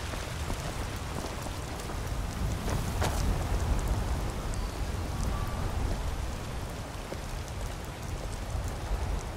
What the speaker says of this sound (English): It's always raining when I come here most of the time.